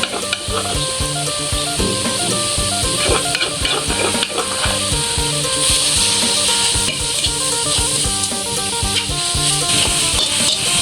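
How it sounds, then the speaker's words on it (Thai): Loud, continuous sizzling from a hot wok with no oil, spices and shrimp paste going in for a Thai spicy herbed village-chicken stir-fry, with metallic scraping and clanks of stirring throughout. "อ่ากระทะเดือดแล้ว ใส่ลงไป"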